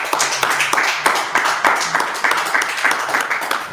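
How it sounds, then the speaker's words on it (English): Audience clapping at a live Thursday night scripture breakdown, a steady mass of hand claps with rhythmic accents running throughout, fairly close and continuous. "clap it up"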